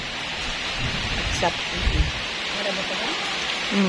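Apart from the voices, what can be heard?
heavy rain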